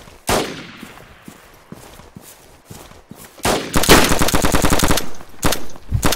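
Suppressing machine gun fire in the military shooter Squad: a loud shot, then scattered distant pops, then a long rapid automatic burst followed by a few shorter bursts.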